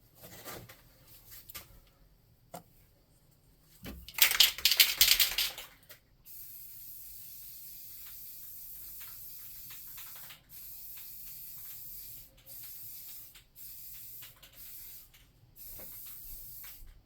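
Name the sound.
spray painting a cauldron with black spray paint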